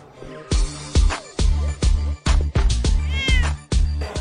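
Repeated loud meows from a cat at an Australian cat beauty pageant, about eight short calls in a steady rhythm, close and clear with no talking over them.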